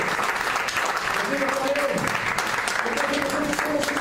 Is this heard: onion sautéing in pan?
no